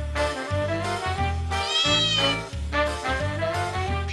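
Cats in a hospital ward meow loudly and persistently, several drawn-out, wavering cries following one another in close succession, with no talking.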